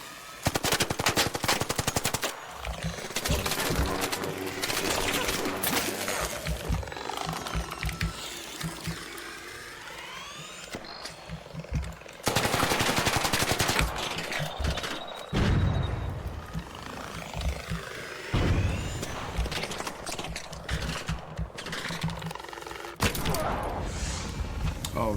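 Rapid bursts of gunfire in the video game Arc Raiders, loud automatic fire that repeats in clusters and fades to quieter stretches between volleys, with a few sharp single shots.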